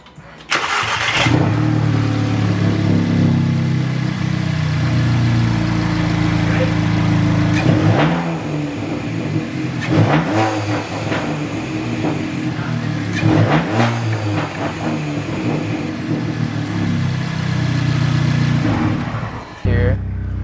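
An Audi S3 fitted with a CTS blow-off valve starts up and revs, a mid-pitched engine idling and rising in repeated bursts, close and loud, with voices talking over it.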